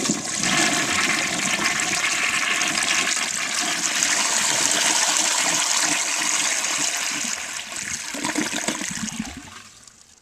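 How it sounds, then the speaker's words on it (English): A 1933 Standard Modernus toilet flushes with a loud, sustained rush of water that holds steady for several seconds, then tapers into gurgling and a fading trickle, heard close up with no talk. "I'm going to try flushing it again."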